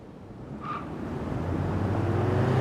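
A car engine revs up and builds steadily, its droning pitch climbing as the vehicle pulls away close by, with a brief higher squeal early on and no talking.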